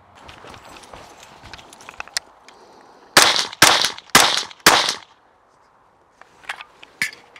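Four sharp shots from a Ruger LC Carbine in 5.7x28mm fired at steel targets 100 yards away, evenly spaced, loud and close, each with a bright ringing tail, amid quieter handling noises before and after.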